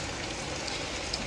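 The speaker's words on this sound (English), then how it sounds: "It is hammering it down with rain." Heavy rain hammers down early in the morning at an eventing weekend, a dense, steady broadband hiss of pouring water with no break, close and constant throughout.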